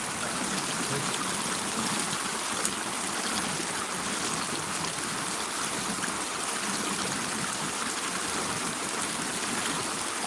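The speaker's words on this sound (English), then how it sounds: "We got water running to the left. We got water running to the right." A shallow stream running and trickling around a log near a muddy bank, a steady dense rush of water that stays constant and close throughout, with no voices.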